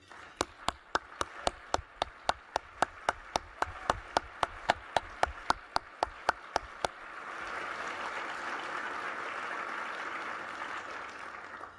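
Applause at an arts awards ceremony luncheon in New York for foundation representatives: a single person claps loudly and steadily close by, then a broad crowd applause swells and carries on.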